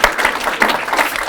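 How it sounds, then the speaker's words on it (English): A gala crowd claps for an honoree in a short, even burst of applause, moderately close with no voices over it. "Can we get a round of applause for Lucy?"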